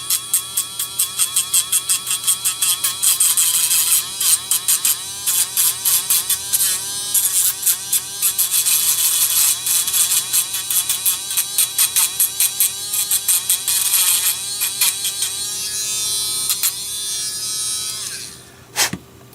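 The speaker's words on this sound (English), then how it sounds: "I like to go to the small Dremel or small moto tool" A small Dremel rotary tool grinding down a 3D-printed filament loader part, a close, high whining buzz in rapid repeated bursts that tails off and stops near the end, with no voices.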